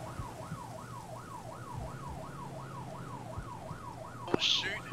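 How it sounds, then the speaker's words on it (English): A vehicle siren in the military game Arma 3 wails steadily up and down in a regular cycle, moderately loud over low engine rumble, with a brief sharp click near the end. "There's a siren on it."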